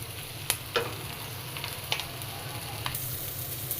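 An egg frying in a pan, a low steady sizzle with a few sharp clicks and scrapes of a spatula, close but fairly quiet and without voices.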